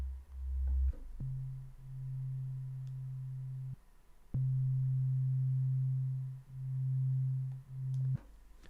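A detuned square-wave synthesizer tone plays as a low sustained note in several separate held stretches with short gaps, its level swelling and dipping in a slow beating pattern.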